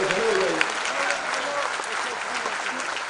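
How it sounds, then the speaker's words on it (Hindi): Audience at a national conference award ceremony applauding steadily, a dense, even clatter of many hands throughout, with a voice speaking over it at the start. "तालियां तालियां"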